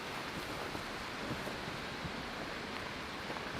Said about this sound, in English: I'm done with this rain.